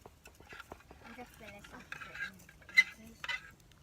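Cutlery scraping and clinking against a cooking pot as leftover noodles are scraped out at a campfire cooking spot, a series of short uneven scrapes and taps with a sharp clank near the end, close by, with people talking softly.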